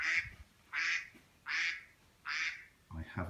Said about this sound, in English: I haven't just trodden on a duck. It's okay, that's my text message.